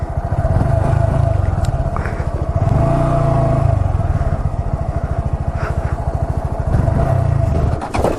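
A motorcycle engine pulses loudly and up close as the rider revs hard while attempting wheelies, a throbbing low exhaust note with rising and falling surges and no talk.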